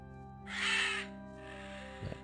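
A loud, close bird caw in the video game Chronicles of Myrtana: Archolos, one harsh rasping call followed by a softer drawn-out tail, over a low steady ambient drone with a brief thump near the end.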